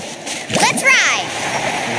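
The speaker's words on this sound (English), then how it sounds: "Need a surfboard? Carving waves!" Surfboard carving through waves in Genshin Impact, a loud rushing splash swelling then settling into steady spray, with a voice over part of it.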